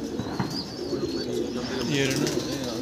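Racing pigeons coo at close range with soft, wavering calls. Higher chirps and background murmur blend in, and a voice may be faintly present.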